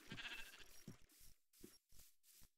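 Minecraft sheep bleat several times in short, separated bursts, each a nasal cry. The calls come clearly and at moderate loudness against a quiet game background.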